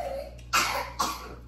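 Two sharp coughs from a child, about half a second apart, close and fairly loud against a quiet indoor background.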